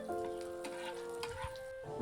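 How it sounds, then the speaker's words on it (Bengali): Onions sizzle steadily in a hot pan, with a sustained tonal hum running through the background. "দেখো, পেঁয়াজগুলো লাল লাল ভাজা হয়ে গেছে।"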